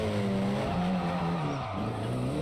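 A car engine in JDM: Rise of the Scorpion screams at high revs while drifting, a steady loud whine that dips slightly in pitch midway before climbing again, continuous throughout.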